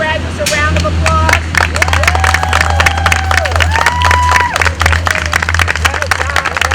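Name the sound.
audience applauding graduates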